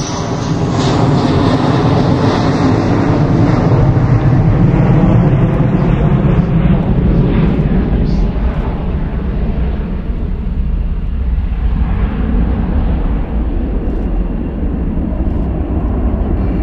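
An Embraer C-390 Millennium military transport jet flying a display at RIAT 2024, a loud sustained engine roar that swells and slowly fades as it passes, heard from the ground with no talking.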